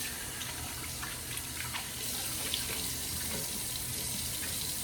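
A bathroom tap runs steadily into a sink as water is splashed on the face before a wet shave, a continuous close splashing flow with no talking.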